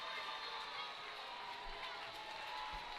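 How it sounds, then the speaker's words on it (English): Crowd noise at a high school boys basketball district semifinal game against John Champe, a steady broad roar of cheering and murmur from a packed gym filling the whole stretch, with no single voice standing out. "Riddle will check in for the first time, and the crowd giving their approval to Daryl."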